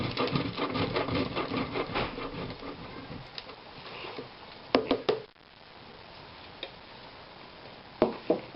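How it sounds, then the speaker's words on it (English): A bar of soap is grated on a cheese grater: quick scraping strokes in a steady rhythm for the first few seconds, then a few scattered taps and knocks at close range. "you take your bar of soap and you just grate it."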